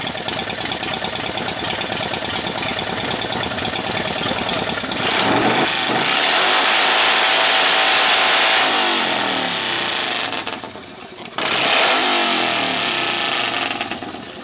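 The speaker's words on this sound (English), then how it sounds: "as he starts up the bike, you can tell here he topped out the microphone" A loud motorcycle at an outdoor bike show starts and revs hard, with its roar swelling and dropping through a couple of throttle bursts close to the microphone, which distorts under the volume.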